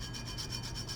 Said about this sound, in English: I'm just rubbing it to see if anything is coming up or messing up.